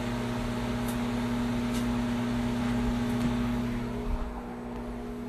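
Steady microwave fan hum with a constant low drone and a tonal whine, running continuously up close before easing slightly near the end.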